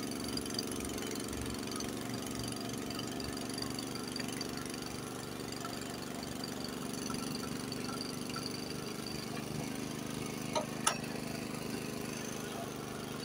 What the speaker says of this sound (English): the engine was bogging down a little bit